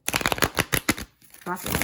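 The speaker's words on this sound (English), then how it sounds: "I'll try to shuffle these, but these are harder to shuffle." Stiff, rigid playing cards riffled in quick bursts, a series of sharp crackling flutters with a short pause, then a longer ripple at the end; a voice briefly underneath.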